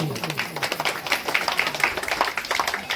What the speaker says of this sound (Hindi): अगर आप लोगों को भी अच्छा लगा तो एक बार जोरदार ताली हो जाना चाहिए।